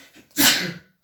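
A single loud, breathy sneeze bursts out close by after a faint intake of breath, then trails off into silence.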